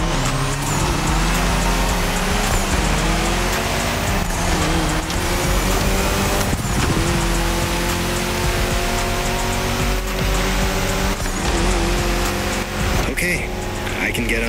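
Engine of a Mini hot hatch driven in the racing game The Crew Motorfest drones steadily at a loud level throughout, its pitch shifting with gear changes, with game noise layered on top.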